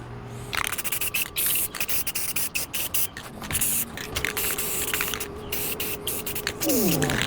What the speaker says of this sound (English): Let's go ahead and clean it up with some acetone.